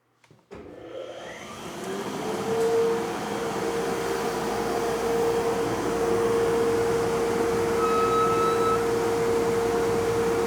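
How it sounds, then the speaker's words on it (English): A woodshop dust collector switches on with a thump and spins up over a couple of seconds into a loud, steady whooshing roar with a constant tonal hum. "So now I'm going to turn on the dust collector"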